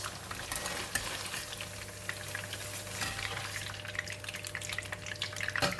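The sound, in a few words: tofu frying in a pan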